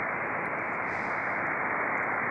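Broadband hiss and static from a shortwave radio with noise reduction turned down, tuned around the 31 metre band during a solar storm; a steady, loud wash of noise fills the whole clip with no voice.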